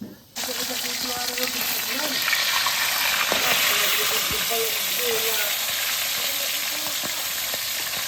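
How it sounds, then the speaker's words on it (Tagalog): Fish frying in a pan, cooked in the traditional village style: a loud, steady sizzle and hiss close by that starts abruptly and runs unbroken to the end, with scattered faint pops. "So I'm going to fry the fish using the traditional cooking style here."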